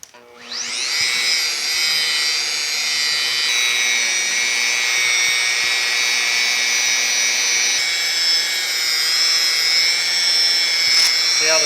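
A power polisher with a small buffing wheel whines steadily and loudly as it spins up and buffs paint under the hood of a 1950 Chevy truck, a sustained high-pitched drone with no pauses.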